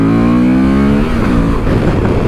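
A 2024 Honda Transalp 750 motorcycle accelerates hard in second gear, its engine note rising steadily then breaking into rougher, gritty roar with wind noise, loud and close throughout.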